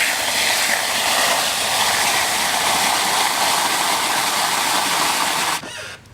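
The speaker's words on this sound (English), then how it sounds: "I'd fill it up with water." Water rushes steadily and loudly into a container in a garden, where it is being mixed with used tea and coffee grounds. The close, hissing pour runs without a break, then stops abruptly near the end.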